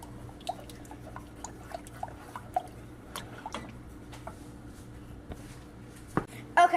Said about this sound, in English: now it is at a boil